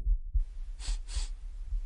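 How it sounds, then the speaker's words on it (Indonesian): A heartbeat sound effect for a horror story gives low, muffled thumps at a steady pulse under breathy hissing that swells twice, and no one speaks. "Benar-benar yang dia dengar hanya degup jantung."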